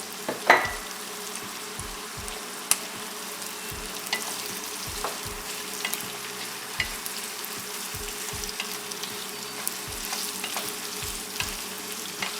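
Onion and capsicum stir-frying in a pan for a chilli chicken dish, a steady close sizzle with regular low thumps and scrapes of a spatula throughout.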